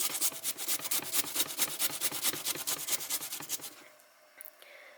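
Fresh ginger grated in quick rhythmic strokes on a fine kitchen grater, a fast series of close scraping rasps that stops abruptly near the end, with no talking.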